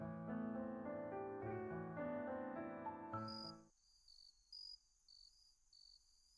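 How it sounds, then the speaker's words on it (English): In the NIKKE video game, insects chirp in short, high, evenly spaced trills. They come in faintly after a sustained musical tone fades out, leaving the chirps alone against near silence. "The insects are already performing their song."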